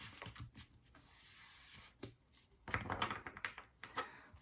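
Quiet papery riffling and soft taps as tarot cards are shuffled, in irregular bursts that grow busier toward the end.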